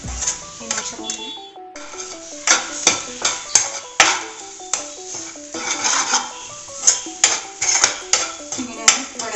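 Kerala-style oyster mushroom thoran being stirred in a pan, with repeated metallic clinks and scrapes of a spoon against the pan in an irregular rhythm, close and fairly loud.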